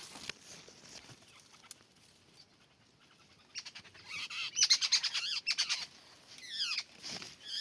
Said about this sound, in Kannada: ಮತ್ತೆ ಹಕ್ಕಿಗಳ ಕೂಗಾಟ ಶುರುವಾಯಿತು